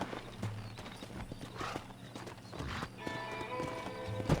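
In the video game Red Dead Redemption, hooves clip-clop steadily while a horse whinnies now and then, with a faint music-like bed underneath and a louder neigh near the end.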